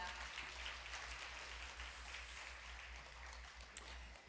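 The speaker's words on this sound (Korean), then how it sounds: "다시 한번 큰 박수 부탁드리겠습니다" Distant, faint applause from a design forum audience, a steady soft wash of many hands over a low hum, with no talk.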